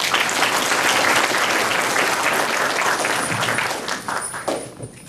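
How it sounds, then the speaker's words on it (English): Dense applause from a crowd welcoming Dr. Steve Gomes at a Hmong community event in Merced, steady and loud before tapering off over the last second. "So if you please join me in a round of applause"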